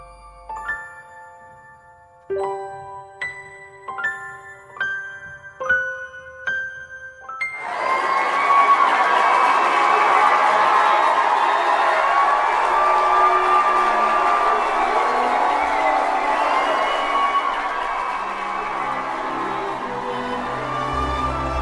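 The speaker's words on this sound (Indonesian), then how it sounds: "Sorak-sorai kemenangan menggetarkan area festival band." Several bright chime-like notes ring out, then a crowd at a band festival bursts into loud, sustained cheering and whooping over a victory that fills the rest of the stretch.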